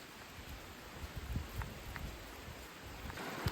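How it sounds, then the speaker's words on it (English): Heavy rain falls on the trees over a campsite, a steady dense patter of drops on leaves and canopy with soft scattered taps close by, fairly quiet and continuous with no talk. "The rain is here. We're under the trees and it's heavy."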